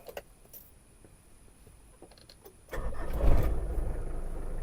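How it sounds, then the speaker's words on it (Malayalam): An offroad vehicle's engine cranks and catches about two-thirds of the way in, rising into a loud, close idle after a few quiet clicks and rustles. "ഇനി വണ്ടി ഒന്ന് സ്റ്റാർട്ടാക്കാം കേട്ടോ"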